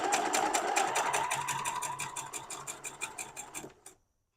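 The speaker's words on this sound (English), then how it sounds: "And this sewing does not take long, so that's kind of cool." A sewing machine stitches a potato chip quilt block in a fast, even run of mechanical clatter, close up, then stops abruptly near the end, leaving quiet.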